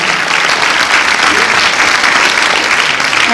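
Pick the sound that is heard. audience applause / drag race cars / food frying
audience applause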